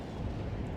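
Distant counter-battery artillery fire in the video game Warno, a dense low rumble of overlapping booms and blasts rolling steadily through the short moment with no voices.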